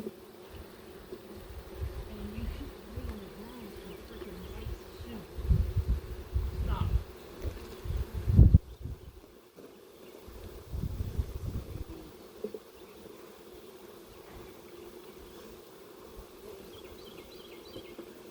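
Honey bees from a package with a mated queen buzz steadily around a hive as frames are replaced, a close, wavering drone with a few louder passes and some brief handling noise.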